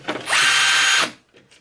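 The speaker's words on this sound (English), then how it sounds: "I'm gonna get some power tools and make a start." A power drill revs up, runs for about a second at a steady high whine, then winds down, loud and close, with brief softer mechanical sounds around it.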